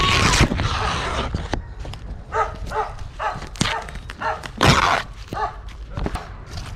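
Several dogs bark in short, loud bursts with pauses between them, heard close by in a yard during a motorcycle oil change, with some talk and clatter mixed in.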